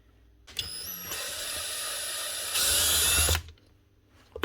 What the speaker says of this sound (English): Destroyed it by drilling it out, but it eventually gripped it anyway and unscrewed it.